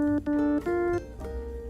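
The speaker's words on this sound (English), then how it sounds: "we also made improvements on the sound to implement piano keys to the sound" Encrypted binary data rendered as piano-key notes: a short run of four or five sustained tones stepping between pitches, clear and fairly loud, then fading into a softer blur.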